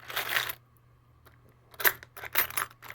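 A locksmith's metal set keys clink and jangle as they are handled, with a short burst of rattling, a pause, then several quick metallic shuffles close by.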